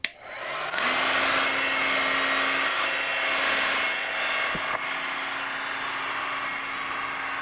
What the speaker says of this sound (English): I'll use a heat gun to speed up this process a bit, but from far away because I don't want to hurt the tension on the foil.